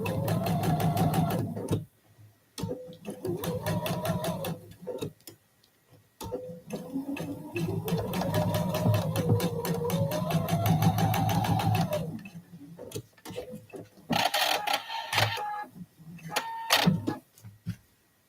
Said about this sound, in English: Let me just sew this.